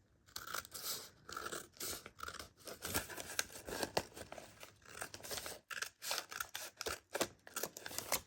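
Scissors cut paper envelopes for a junk journal in many quick snips and crinkly paper rustles, with a faint, close, irregular rhythm.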